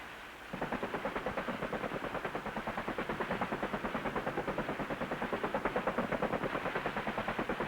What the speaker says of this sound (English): The Cobras return any fire which could be a danger to the flight